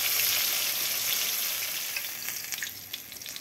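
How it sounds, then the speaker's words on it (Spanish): Hake fish frying in hot oil, a steady bright crackling sizzle that is loud at first and eases slightly toward the end, with no voices over it. "Listo, amigos, miren, ya está frito."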